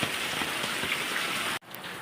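Steady, close rain pouring down on a flooded neighbourhood during a wet Friday, a dense continuous hiss that cuts out abruptly near the end, then resumes more quietly.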